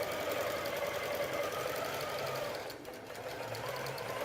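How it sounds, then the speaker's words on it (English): A Q'nique 19X Elite longarm quilting machine stitches a section on its own: a steady, close motor whir with rapid needle chatter that runs unbroken, with no one talking. "Now it's going to sew this next section."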